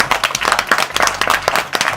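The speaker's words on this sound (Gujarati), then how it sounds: "વધાવો તાળીઓ" An audience claps steadily for a couple of seconds, a dense, even patter of many hands at moderate loudness.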